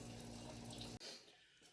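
Diesel fuel drains in a steady liquid stream from a Mercedes 300 SD fuel tank into a can, then abruptly thins to a fast, softer trickle about halfway through.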